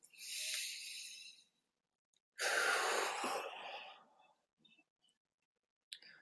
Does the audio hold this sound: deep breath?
yes